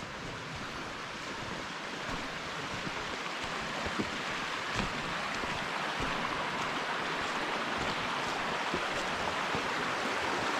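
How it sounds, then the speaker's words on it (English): Running water near an Appalachian Trail shelter on a forested section hike, a steady broadband rush of flowing stream that stays even and unbroken, moderately loud with no voices. "Water is running."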